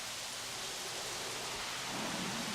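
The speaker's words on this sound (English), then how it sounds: "it is raining like crazy" Heavy rain in the dinosaur park game Jurassic World Evolution: a dense, constant hiss of downpour, loud and unbroken, with a low rumbling undertone and no voices.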